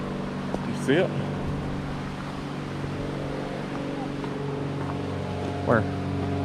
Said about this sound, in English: Oh, it's a float plane.